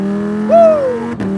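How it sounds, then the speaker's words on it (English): Tuned Lamborghini Huracán V10 LP580-2 engine revving up close, a steady drone that rises into a sweeping whine and then falls back, with a brief dip near the end. "driving a Lamborghini for the very first time"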